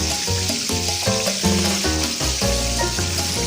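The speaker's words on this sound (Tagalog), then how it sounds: "Pinapaliguan ko na lang ng mantika para mas lumutong yung balat." Chicken deep-frying in hot oil while being basted for crisp skin, a loud, steady sizzle running the whole time under layered music, with no talking.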